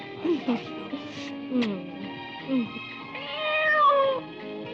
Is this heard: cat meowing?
yes